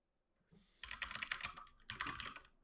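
Rapid clacking keystrokes on a computer keyboard come in two dense bursts during a game session, close and moderately quiet, with no voices.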